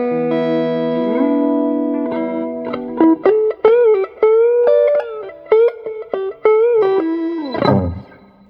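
Electric guitar through a Peavey Classic VTX amp with treble and presence maxed and bright channel on, playing a sustained chord, then a run of bright, biting single notes with bends, ending on a slide down.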